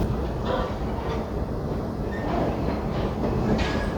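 Inside the cabin of an economy class train running from Nairobi to Nyahururu, a steady low rumble of wheels and carriage mingles with faint rhythmic clatter and occasional soft squeals, continuous throughout.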